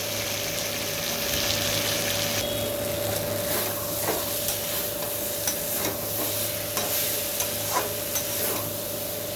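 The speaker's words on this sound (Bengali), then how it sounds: "এখন ভেজে নেব এইভাবে।" Raw green banana with cumin frying in hot oil in a pan, a steady soft sizzle with stirring scrapes and small taps recurring throughout, close and alone with no talk.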